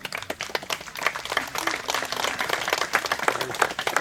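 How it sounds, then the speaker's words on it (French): Audience applause at a canine demonstration event in Gramat, steady dense clapping from a crowd, moderately loud with no talk over it. "applaudissez vraiment très fort parce que je vous garantis que c'est beaucoup d'heures de travail"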